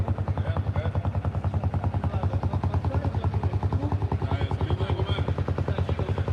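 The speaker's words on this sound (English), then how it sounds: "I know there's a motorbike in the background." A motorbike engine in a busy Los Cristianos street in Tenerife throbs in a steady, rapid pulsing rhythm throughout, held at a moderate distance in the background.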